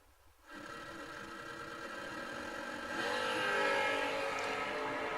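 Pair of Chevy II drag race cars launching at a drag strip, heard from a distance as a faint, steady engine roar that swells a little louder partway through, with no talk.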